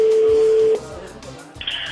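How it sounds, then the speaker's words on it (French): French telephone ringing tone on an outgoing call, the fourth ring, a steady ring tone that cuts off partway through, followed by quiet line noise and a brief beep. "4e sonnerie."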